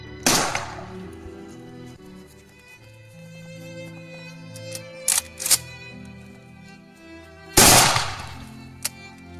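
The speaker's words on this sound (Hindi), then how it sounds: "फिरन पहने खातून को मिलिटेंट्स की तरफ से 2 गोलियां मारी गईं" Sharp gunshots crack over a backdrop of music in a Kashmir news bulletin: one at the start, a quick pair midway, and a loud blast near the end.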